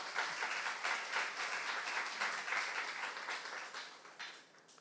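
A church congregation applauds at a Korean youth service sermon: steady, dense clapping from many hands that runs without a break, fairly faint and distant, and fades slightly toward the end.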